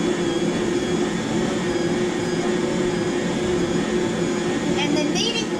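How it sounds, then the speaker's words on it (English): A Bosch stand mixer kneads rye bread dough made from fresh-milled grain, producing a loud, steady motor whir with no pauses. The whir is close and continuous. "for those that don't know what the Bosch mixer is like, I like this a whole lot better than the other mixer"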